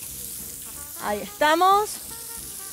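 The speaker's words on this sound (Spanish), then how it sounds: "vamos a freír estos choricitos. Tengo algunos ahí que se están friendo" Choricitos frying in hot oil on a live morning TV cooking segment, a steady soft sizzle running throughout beneath brief talk from a presenter.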